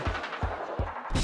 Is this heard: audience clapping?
no